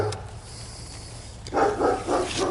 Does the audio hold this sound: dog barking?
yes